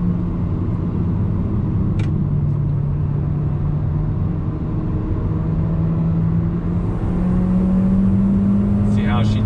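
A 2020 Kia Soul GT-Line driving through a turn, with a steady engine drone whose pitch climbs gradually under constant road and tyre rumble, heard from inside the cabin.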